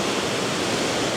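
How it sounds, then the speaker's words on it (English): A dense, steady roar of rushing water, loud and constant from a powerful waterfall nearby at Invermoriston. "this kind of raging waterfall"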